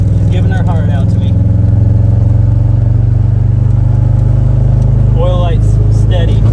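A car with an 800whp stock Subaru EJ25 engine runs on a failing rod, giving a loud, steady, rough idle-like drone with clattering throughout and brief whining rises near the start and end.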